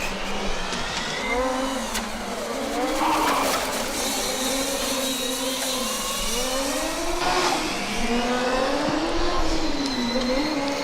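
Formula Student race cars lapping a circuit during an endurance event, their engines whining and rising and falling in pitch as they pass nearby and accelerate, steady and loud throughout with no talk.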